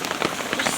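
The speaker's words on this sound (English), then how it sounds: "I'm in the rain" Rain pours outdoors during a flood, a dense, steady patter of drops striking water and ground close by, with no pauses across the brief stretch.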